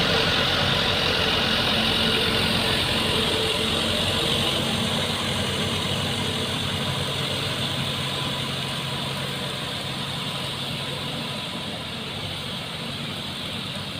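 A Fuso 6x4 truck engine drones steadily and loudly while towing an Isuzu Giga, a continuous low rumble with slight revving that eases a little toward the end, with no voices.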